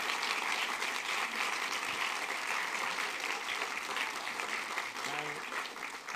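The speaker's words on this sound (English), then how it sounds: "A round of applause once again." Audience applause after a lecture at a church event, a steady, dense wash of clapping throughout, with a voice briefly heard near the end.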